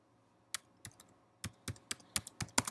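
Keystrokes on a computer keyboard, about nine distinct clicks in irregular bursts after a brief quiet start, close and fairly crisp with no voices.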